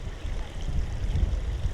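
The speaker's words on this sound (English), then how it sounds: "Alright, so we've got a waterfall here." Waterfall in Bradgate Park, a steady low rushing wash of water close by, continuous and fairly quiet, with no voices.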